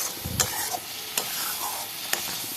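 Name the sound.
spice paste with Kashmiri chili being stirred and fried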